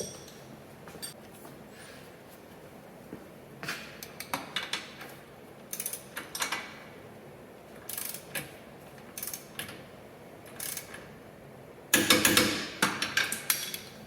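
Clicking and ratcheting of a wrench torquing down a shock nut on a Jeep Wrangler JK, heard as short metallic bursts separated by pauses, with a louder, rapid run of clicks near the end.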